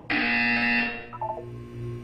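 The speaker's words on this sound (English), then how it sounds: "When you hear the buzzer, look down at the floor." A Portal 2 test-chamber buzzer sounds once, loud and steady for about a second, then cuts off and leaves a low hum with faint electronic tones.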